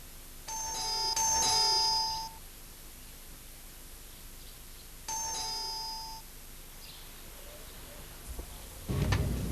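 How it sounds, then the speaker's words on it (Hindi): A doorbell rings twice in a home setting, two bright electronic chimes a few seconds apart against a quiet room with faint static hiss, followed by a brief knock or bump at the end. "काय को इतना खाली फुकट घंटी बजाते हैं तुम?"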